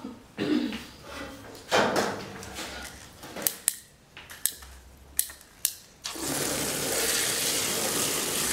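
Scattered clicks and sharp knocks of handling a container, then a steady, fairly loud rush of about two liters of water pouring into it for soaking plants, continuing to the end.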